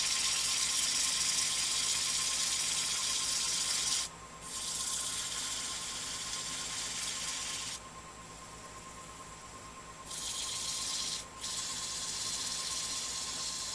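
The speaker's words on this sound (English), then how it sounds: "Get this entire thing sanded except for that little nub." Sandpaper rubs against a cherry wood piece spinning on a lathe, a steady hissing rasp with a constant motor hum beneath, pausing briefly twice and softening in the middle stretch.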